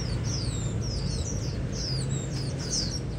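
Oriental magpie-robin chick begging for food, giving repeated thin, rising chirps against a steady low background rumble, fairly close and persistent throughout.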